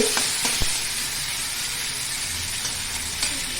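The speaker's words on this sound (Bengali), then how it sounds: "যে তেলে আলু ভাজা হয়েছে পেঁয়াজ এখন ভালো করে ভাজা হচ্ছে" Onions fry in oil that was used for frying potatoes, a steady, close hissing sizzle with occasional faint ticks and stirring sounds, heard alone with no voices, while making basanti pulao.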